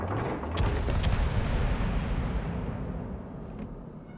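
Heavy battleship gun salvos in a naval warfare video game: a dense, sustained roar of booming fire with a few sharper cracks early on, loud throughout and slowly fading toward the end.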